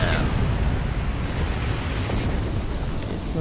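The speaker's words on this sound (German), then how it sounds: "Ich wollte noch schnell weg, bevor die Explosion uns selbst Schaden zufügt" A starship explosion in Star Trek Online on Xbox, a dense rumbling blast that fills the whole moment with sustained loud roaring noise.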